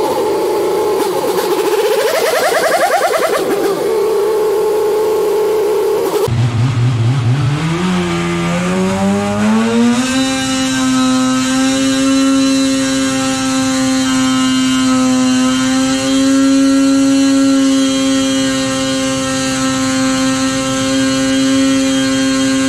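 A Polaris Axys 800 snowmobile engine revs hard on a dyno, its pitch sweeping up and then holding at a high, steady whine close by with no talking.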